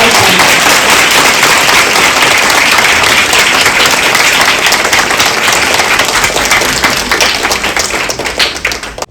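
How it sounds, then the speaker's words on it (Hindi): An audience at a spiritual centre gathering in Hastsal, Delhi, breaks into loud, dense, sustained applause close by, holding strong throughout before thinning slightly at the very end. "कि जोरदार ताली से, और जोरदार ताली।"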